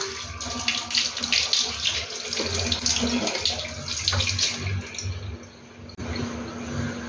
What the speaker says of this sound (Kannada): ಸ್ವಲ್ಪ ನೀರನ್ನು ಈ ರೀತಿ ಚುಮುಕಿಸ್ಕೊಂಡು ಫೇಸ್ ಮೇಲೆ ನಿಧಾನಕ್ಕೆ ಜಂಟಲ್ ಆಗಿ ಈ ರೀತಿ ಮಸಾಜ್ ಕೊಡ್ತಾ